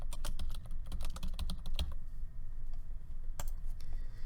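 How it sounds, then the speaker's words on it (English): Rapid clicks of typing on a computer keyboard, close and crisp, come in a quick burst of keystrokes, pause, then a couple of final taps. "then typing a name that makes the most sense to you"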